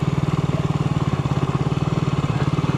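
A motorcycle rolls along in low gear with the clutch feathered, its engine giving a loud, steady, rapid pulsing throb close by, and no talking over it.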